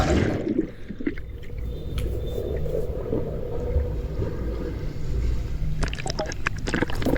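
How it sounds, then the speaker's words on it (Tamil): Person diving headfirst into a cold resort swimming pool in Munnar, a splash followed by steady underwater rushing and churning water, with bubbly knocks near the end. "ஜம்ப் பண்ணுறதுக்கு தயாராக நான் தலைகீழாக தான் குதிப்பேன் அப்படின்றவா நிற்கிறேன்"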